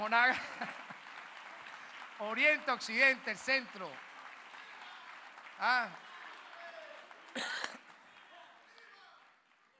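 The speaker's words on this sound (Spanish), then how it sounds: "Un aplauso para los constituyentes de toda Venezuela." Broad applause fills the background throughout while someone speaks loudly over it, his voice rising and falling above the steady clapping.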